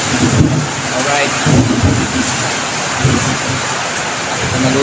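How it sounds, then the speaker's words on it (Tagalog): Heavy rain pours steadily with a dense, loud hiss and low rumbling that suggests thunder. A voice is heard faintly at times under the downpour. "ang lakas ng ulan"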